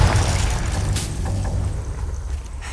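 A Confringo spell blast in Hogwarts Legacy: a dense low rumbling boom with a brief sharp crack near the start, loud and sustained, fading slightly over a few seconds without speech.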